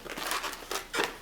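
A latex modelling balloon squeaks and rubs as it is twisted into a small pinch twist, giving a few short, close crinkly bursts.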